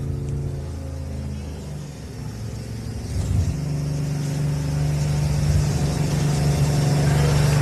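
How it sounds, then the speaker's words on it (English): A Waitley off-road race truck at an off-road race park revs its engine in the background, a mid-pitched engine note that idles, then climbs and holds a steady, louder drone. "that would be the sound of the Waitley truck you might hear in the background here"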